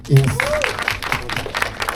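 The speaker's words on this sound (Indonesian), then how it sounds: "tepuk tangan dulu buat Kairi" Audience applauds during an interview about a pro gamer's life story film, a brief patter of claps heard beneath a speaking voice.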